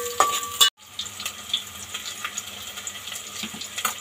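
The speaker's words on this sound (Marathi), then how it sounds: "आता कांदा चांगला लाल होऊ द्यायचा, पूर्ण ब्राऊन होईपर्यंत तो फ्राय करायचा आहे" Onion frying in a pan until browned, a steady close sizzle broken by a brief silence, with faint crackles and small pops throughout.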